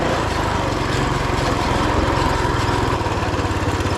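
The 2WD Roko Ranger off-road mini bike's small engine runs loud and close, a steady buzzing drone with a fast, rough pulse and no pauses.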